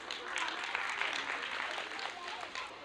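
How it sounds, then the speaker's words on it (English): Parents in a crowd applaud students at a graduation day celebration, a dense, steady clapping that holds at an even level for the whole stretch with no gaps. "a loud applause for all our 19 students"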